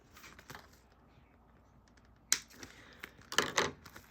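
Scissors snip fabric seam allowances in a few crisp, quick cuts, faint scattered clicks at first and then a louder cluster of close snips near the end, with no talking.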